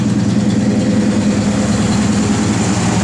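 A 1968 Pontiac GTO sits idling with a steady, low, even engine burble that stays loud and close throughout, with no voices over it.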